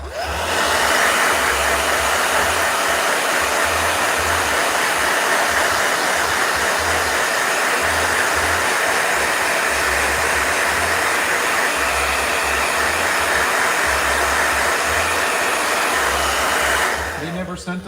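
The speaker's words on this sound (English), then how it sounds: "All right, blow dryer." A blow dryer runs continuously at close range to dry a watercolor painting, a loud steady rushing whir with a pulsing low flutter, holding for about seventeen seconds before switching off near the end.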